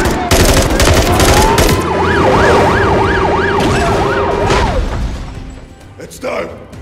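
An ambulance siren wails in Call of Duty: Modern Warfare 3, its rising and falling tone cycling steadily and loudly over gunfire, engine noise and soldiers shouting orders, then fading near the end.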